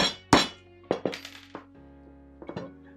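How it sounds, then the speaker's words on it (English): Several sharp metallic impacts from punching holes through metal, with ringing, clinking tails, spaced irregularly over a few seconds, close and fairly crisp. "I'm gonna punch through the metal here."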